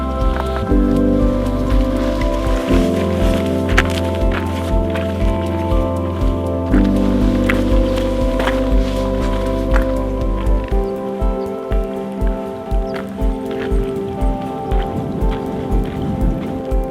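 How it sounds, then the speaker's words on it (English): Rain coming in over Sprinkling Tarn, a small lake high in the Lake District fells. A dense, steady patter of drops falls close by, with a droning tonal layer underneath throughout. "as soon as we get down the rain comes in"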